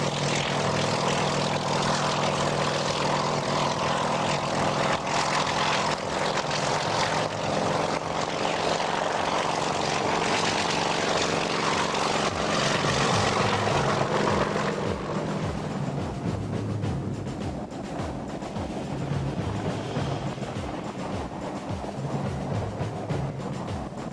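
A helicopter carrying a full water bucket flies close and loud with a continuous rotor and engine roar, the tone shifting and turning rougher partway through as the machine labors.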